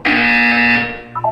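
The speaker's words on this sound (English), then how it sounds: "When you hear the buzzer, look down at the floor." A single loud, steady electronic buzzer tone from Portal 2 on Xbox 360 sounds for about a second, then fades as a brief higher chime starts.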